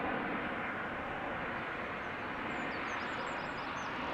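An Air Baltic airliner at Amsterdam Schiphol Airport gives a steady, broad roar of jet engine noise, fairly loud and continuous throughout, with faint higher whistling tones toward the end.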